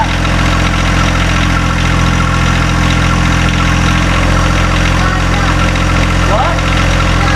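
A tractor engine idles loudly and steadily at close range while its three-point hitch is raised, a constant low throbbing drone with vibration and a person talking over it.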